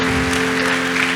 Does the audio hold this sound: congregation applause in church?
yes